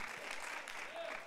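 Church congregation clapping together during a Palm Sunday sermon, a steady dense patter of many hands filling the room.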